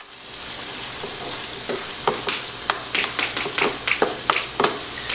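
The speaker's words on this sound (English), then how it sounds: "You want to continue stirring and cooking this until it actually kind of cooks down on the liquid that's left over from the butter" Sliced mushrooms fry in melted butter for a vegan gluten-free poutine, a steady sizzle under a series of sharp spatula scrapes and taps against the pan that quicken toward the end, with no talking.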